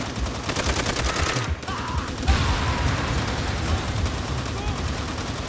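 Bursts of rapid gunfire and rifle shots crackle throughout a World at War co-op match, dense and close, with players talking over the shooting.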